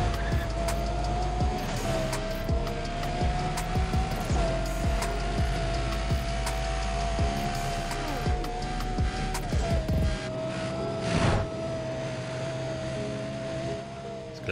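Lamborghini Gallardo racing in Need for Speed Undercover, a sustained engine whine that holds steady then drops, with repeated tire squeals and skids through the corners, loud and close.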